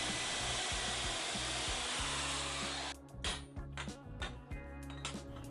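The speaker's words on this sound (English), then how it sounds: "I cut slits into the tubes with my bandsaw." A bandsaw cuts slits into 1-inch stainless steel tubes: a steady, loud, dense whine of blade on metal for about three seconds, then rougher, broken bursts of cutting noise as the blade works through.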